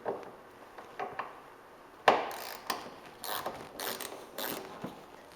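A hand ratchet clicks in short bursts while backing out T30 bolts from the center section of a Porsche 911's lower bumper cover, with a sharp knock near the start, up close and without talk.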